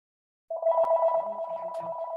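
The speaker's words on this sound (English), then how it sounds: "Answer the phone." A telephone rings with a continuous, bright electronic trill that starts abruptly after a brief silence and stays loud and close throughout, with no talk over it.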